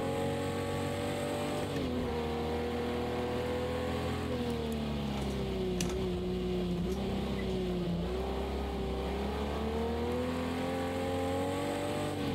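Jaguar E-Type racing around Watkins Glen in Project Cars 2, its engine droning loud and continuous with rising and falling pitch through gear changes, revving steadily throughout.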